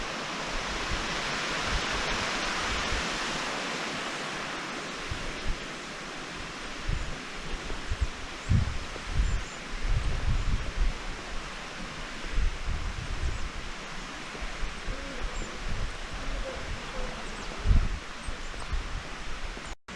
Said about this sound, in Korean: 우와, 폭포.